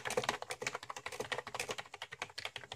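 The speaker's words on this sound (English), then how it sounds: "The keys feel okay, but the spacebar and enter key feel a bit plasticky and wobbly." Rapid, steady typing on an RGB gaming keyboard with slightly plasticky, wobbly keys: a dense run of close clicks and taps with no talking.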